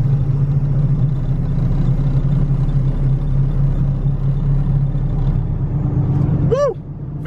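A car drives through town with a steady low engine rumble and road noise heard from inside, with a short rising whistle-like squeal near the end.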